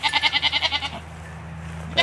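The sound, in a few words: goats bleating in a herd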